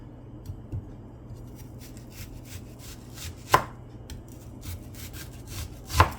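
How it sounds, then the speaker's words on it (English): A knife slices a peeled onion very thin on a board, giving a soft series of light cuts with two sharper, louder chops standing out, close and quiet. "And I'm slicing the onion very thin."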